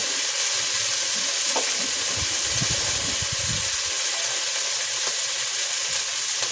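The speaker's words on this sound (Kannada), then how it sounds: "ಟೊಮ್ಯಾಟೊನೂ ಸಹ ಚೆನ್ನಾಗಿ ಫ್ರೈ ಆಗಲಿ" Tomatoes fry in a pan for tomato biryani, producing a loud, continuous sizzle and hiss with low thumps and scrapes from stirring midway, and no one talking.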